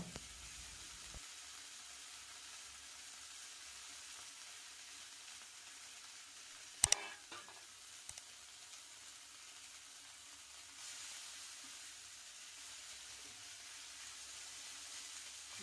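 Tender tamarind leaves sauté in a pan for chutney, with a faint, steady sizzling hiss, one sharp clatter partway through, and a slight lift in the frying noise toward the end.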